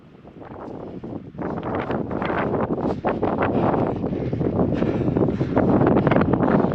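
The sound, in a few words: wind on a mountain top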